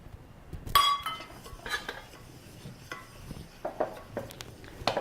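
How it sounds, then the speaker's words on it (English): Quinoa being dry-toasted in a pot, stirred with a utensil that scrapes and clinks against the metal in a series of short, irregular strokes, close and fairly quiet. "When we're stirring back and forth like this, we're missing the edges, so we could also scorch the quinoa"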